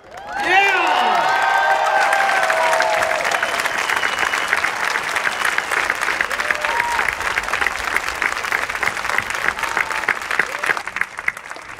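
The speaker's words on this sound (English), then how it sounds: "Women and men of the incoming class, now take the time to cheer!" Stanford's incoming class of 2013 bursts into loud cheering and sustained applause from a large crowd, with whoops rising at the start and then a dense, steady roar of clapping that continues to the end.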